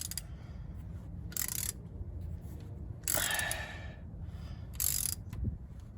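A ratchet wrench with a 7/16 socket works on a transmission bolt of a 2012-2016 Chevy Impala, giving a few short bursts of clicking separated by quiet, close and moderately loud.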